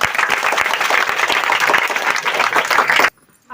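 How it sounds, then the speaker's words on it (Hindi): A church congregation claps loudly and steadily for about three seconds, a dense, close wash of many hands that stops abruptly into near silence. "जोरदार ताली लगाएं।"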